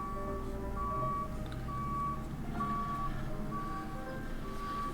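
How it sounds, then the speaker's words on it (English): A truck's reversing alarm sounds in a steady run of evenly spaced beeps over a constant background hum, moderately close and without talk. "Beep of his truck, that's what you're hearing."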